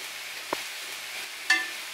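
Sliced mushrooms and onion fry together in vegetable oil, making a soft, even sizzle that hisses steadily, broken by a couple of light clicks and no talking.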